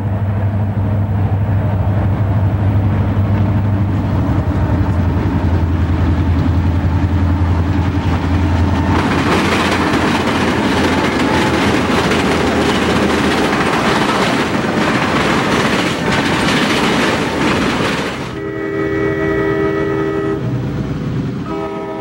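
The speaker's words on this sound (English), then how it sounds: "Train CM1, Chicago to Memphis, next heads past the camera, this one also traveling southbound." A southbound Illinois Central freight, train CM1 from Chicago to Memphis, rumbles past close by with a loud diesel roar and steady rolling clatter of cars, and a horn blast sounds near the end.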